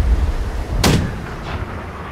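A single loud, sharp cannon boom from a pirate naval battle video game bursts out near the middle, followed by a fainter distant blast and a rumbling tail.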